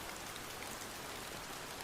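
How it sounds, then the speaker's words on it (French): Steady rain falls without a break, a dense even hiss of drops striking a surface at constant loudness, with no voices. "Il pleut."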